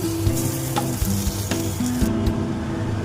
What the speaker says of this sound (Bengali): লেজাগুলোকে আমি ভেজে নেব